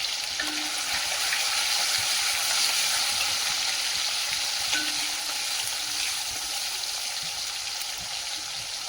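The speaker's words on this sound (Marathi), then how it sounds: "आणि आता हिंग आहे ना थोडंसं टाकणार आहे मी" Asafoetida added to hot oil for a Marathi-style tempering sizzles steadily, a bright continuous frying crackle held at even loudness throughout, with no talk over it.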